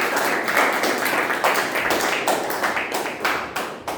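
Applause from a Toastmasters meeting audience fills four seconds, a dense, close wash of many hands clapping without pause.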